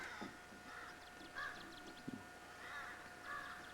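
Several crows caw repeatedly along a river in Maine, harsh calls coming in short clusters at a moderate distance over a quiet outdoor background.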